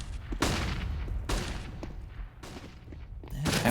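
Pistol shots from a Counter-Strike match on the Mirage map, several sharp cracks spaced roughly a second apart, each trailing into a short ringing decay, with a denser burst of fire at the end.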